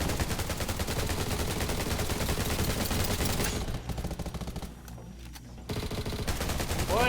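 Gunfire in the video game Undawn: dense, rapid automatic bursts fill most of the stretch, briefly dropping to quieter scattered shots before the loud shooting resumes.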